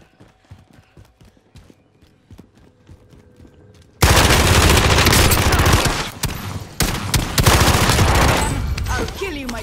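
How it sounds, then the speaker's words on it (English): Gunfire in the shooter game Warzone erupts as loud, dense rapid shots after a quieter stretch of rhythmic tapping footsteps, then continues in sharp repeated bursts. "I heard a shot."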